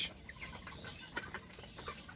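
Broiler chickens on a poultry farm, a flock of about 1,700 birds, cluck and murmur faintly. The chatter is soft and brief against a low background hum.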